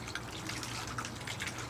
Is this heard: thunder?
no